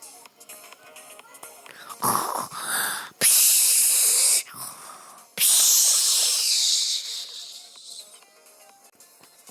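A person imitates snoring with their voice, making loud, harsh, drawn-out rasping breaths and wheezes in several long bursts. Each burst is separated by quieter breathy gaps, close to the mic.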